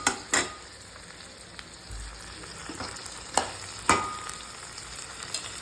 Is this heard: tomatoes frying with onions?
yes